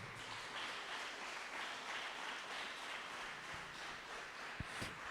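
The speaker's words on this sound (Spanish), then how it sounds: "Dale fuerte ese aplauso al Señor" A church congregation applauds during a worship service, a soft, steady wash of clapping heard from a distance, with a couple of sharper knocks near the end.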